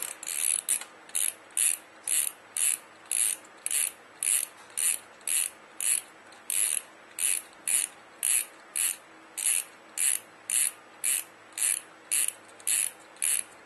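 Rapid bursts of mechanical clicking repeat in a steady rhythm as an airsoft high-capacity magazine's ratcheting wind-up mechanism is turned over and over, close and clear with no talking.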